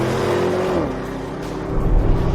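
Audi RS Q8 performance SUV engine revving with a steady, loud drone that dips briefly and then swells again, heard alone with no talk.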